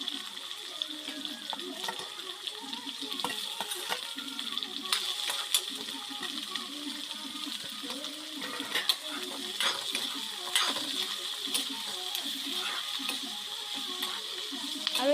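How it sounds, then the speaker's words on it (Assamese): Potatoes and onions frying in a pan give a steady, close sizzle with fine crackling and a few light clinks of a utensil against the pan, and no one speaks. "ইয়াতে মই পলুকেইটা দি দিম। এয়া পলুকেইটা মই দি লৈছোঁ। মজাকৈ ফ্ৰাই কৰিম।"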